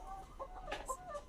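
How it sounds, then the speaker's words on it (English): Local chickens cluck softly in a few short, scattered calls over a low background hum, fairly quiet and with no voices. "Local chicken"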